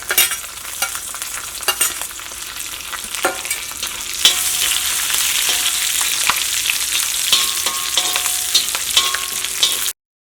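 Green chillies fry in a pan for chilli chicken, a bright crackling sizzle that grows louder and steadier partway through, with sharp clicks from stirring scattered over it.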